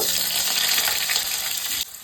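Chopped potatoes fry in hot oil with dried chilli, bay leaf and five-spice seeds, giving a loud, dense crackling sizzle that stops abruptly near the end.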